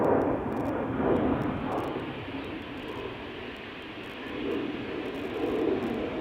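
An easyJet narrow-body airliner climbs away from Schiphol, its jet roar swelling and fading in slow waves, moderately distant, with faint clicks over the top.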